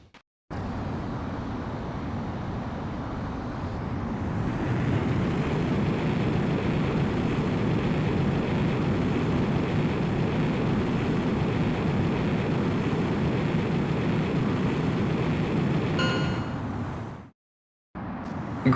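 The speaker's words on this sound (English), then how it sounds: "Griffith 1, you are cleared for takeoff." A jet fighter in Ace Combat X: Skies of Deception takes off, its engine a steady, loud broadband roar that swells after a few seconds and holds before cutting out near the end.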